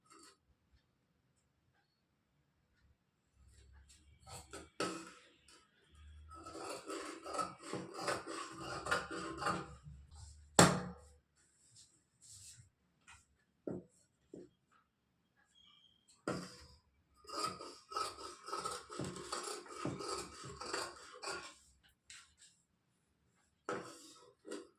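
Scissors cut blouse fabric along a marked line in bursts of crisp snipping and rubbing, separated by quiet pauses, with one sharp snap partway through.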